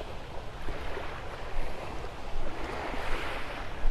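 Small ocean waves washing onto a beach at daybreak at Vanderbilt Beach in North Naples, Florida, a continuous soft hiss of surf with gentle swells and some wind, no voices.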